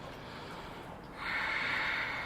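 A slow, steady breath in a quiet room during a hatha yoga session, faint at first and then swelling into a soft, breathy exhale with nobody speaking.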